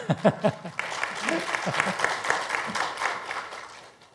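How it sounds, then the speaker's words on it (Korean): A seated audience at a Korean talk concert on biotech research and entrepreneurship applauds; after a few opening voiced sounds, steady dense clapping swells and carries through, fading at the end. "아, 박수 보내시는데요."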